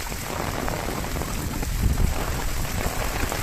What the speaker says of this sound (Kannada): ಸಿಕ್ಕಾಪಟ್ಟೆ ಮಳೆ ಬರ್ತಾ ಇದೆ ನೋಡಿ